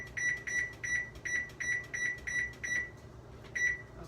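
A series of short, evenly spaced electronic oven timer beeps, about a dozen in quick rhythm, sounding close and clear with a brief gap near the end.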